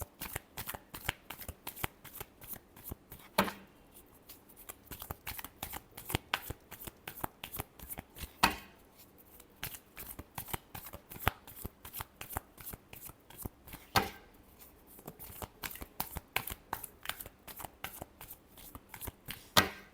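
A deck of tarot cards is shuffled over and over, a continuous run of quick, crisp riffling flicks with brief pauses between rounds, fairly quiet and close.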